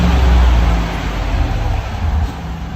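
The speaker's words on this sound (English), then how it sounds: "This is what it sounds like stock, with a stock resonator and muffler." Deep, subdued exhaust note from a 2015 Chevy Tahoe 5.3L V8 with factory muffler and resonator, rising in a short rev then settling to a steady near rumble.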